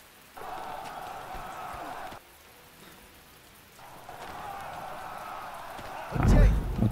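Steady rain hisses in two stretches, dropping away briefly between them, and a deep rumble swells up at the end, in the video game The Great War: Western Front.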